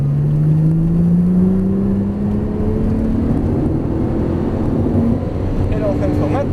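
Porsche GT3 Turbo engine rising in pitch as it accelerates on a track, a steady, close whining drone that climbs smoothly, then eases near the end.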